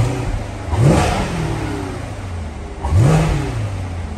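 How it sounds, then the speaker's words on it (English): A 2019 Chevrolet Corvette coupe with Z51 styling runs outdoors, its V8 rising in two strong revs about two seconds apart before settling back to a steady rumble, with no one talking. "now we'll hop out with this one running. We'll just have a look and listen"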